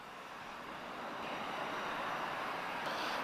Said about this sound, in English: This is an Embraer E190 advanced range.